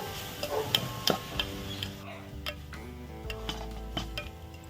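A spoon stirs sugar into a coconut burfi mixture in a pan, making soft, irregular scraping and tapping sounds, with a few sharper clinks against the metal.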